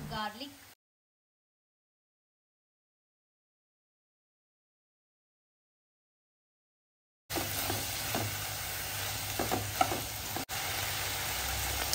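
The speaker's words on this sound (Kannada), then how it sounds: "ಈ ಥರನೇ ಒಂದೊಂದು ಐಟಮ್ಸನ್ನು ಆ್ಯಡ್ ಮಾಡ್ತಾ ಫ್ರೈ ಮಾಡ್ತಾ ಬರೋದು." Green chillies, ginger and garlic frying in a pan for chicken green masala: a short voice at the start, a long silent gap, then a steady close sizzle with occasional stirring knocks.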